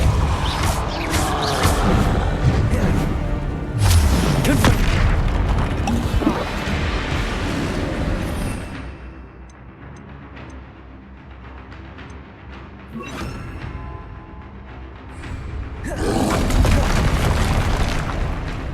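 Spell blasts in the Hogwarts Legacy wizarding action game, a Depulsor push spell among them: loud booming impacts and rumbling magical bursts, easing to a quieter hum midway before another strong surge of blasts.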